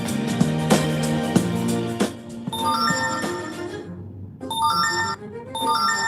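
A phone notification chimes with bright electronic tones, rising over background music and sounding again in short bursts, close and fairly loud.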